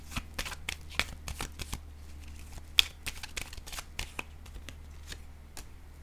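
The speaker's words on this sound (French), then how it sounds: "là je vais piger une carte ici" Tarot cards are shuffled close by in a quiet room, producing a quick run of soft riffling flicks and taps, then a card drawn from the deck, with faint talk in the background.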